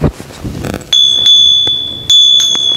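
A doorbell is pressed by a food-delivery motorbike driver in Bandung, giving a few bright ringing strikes with a sustained high tone that carries between them, close and fairly loud over light outdoor rustle.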